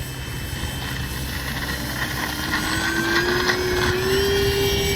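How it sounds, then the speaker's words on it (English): A Kavan Bristell B23 RC plane takes off with flaps lowered, its electric motor whining loud and close as the pitch climbs steadily, with wind noise behind it. "We're going to take off in half of the space needed. And we're going to use takeoff flaps."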